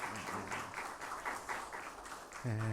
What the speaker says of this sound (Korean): 감사의 박수하겠습니다